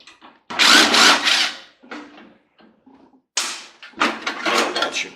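Power drill working on a microwave oven casing during scrapping for copper and steel, with bursts of whirring and grinding separated by short pauses, loud and close.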